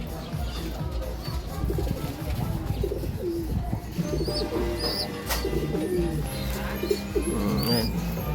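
Racing pigeons coo softly and repeatedly after drinking, with low throaty calls and a few higher chirps over a busy outdoor background.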